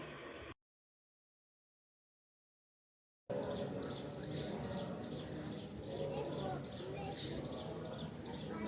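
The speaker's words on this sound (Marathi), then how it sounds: "पक्ष्यांची किती छान किलबिलाट ऐकू येते" Birds chirp in a quick, repeating pattern against a steady outdoor hum around a temple near Chiplun in Konkan, after a brief stretch of silence at the start.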